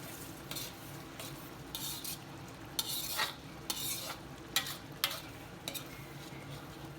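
A spoon stirs a thickening methi chicken curry in a pan, making repeated close scraping strokes over a soft, steady sizzle, with no one speaking.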